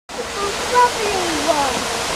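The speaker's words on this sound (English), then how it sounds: "Water fountain, big one." A large outdoor water fountain on a hot day splashes in a steady, loud rushing hiss that fills the short stretch close by, without a break.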